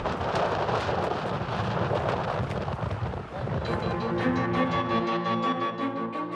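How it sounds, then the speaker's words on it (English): A ferocious thunderstorm rages over tents at a camp near a volcano, a continuous loud roar of wind and rain with rumbling low thunder throughout. "Now, we just need to hunker down and ride out this ferocious storm."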